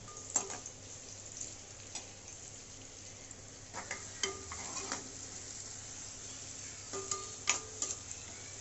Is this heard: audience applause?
no